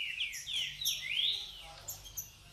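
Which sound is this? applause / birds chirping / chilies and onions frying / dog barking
birds chirping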